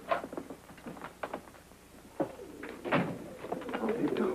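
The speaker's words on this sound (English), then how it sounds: "Sounds like pigeons." Carrier pigeons, a whole flock, cooing in soft repeated bursts around a frontier setting, mixed with scattered bird calls and a thump or two, while people talk over them.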